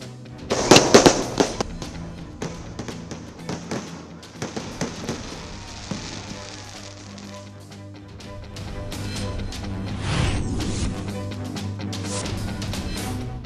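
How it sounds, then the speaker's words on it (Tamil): A fireworks display bursts at a French national day celebration in Puducherry, with a dense volley of sharp cracks early on, then scattered pops and booms over a steady background crowd murmur at moderate distance. "கண்கவர் வான வேடிக்கைகளைக் கண்டு மக்கள் உற்சாகம்."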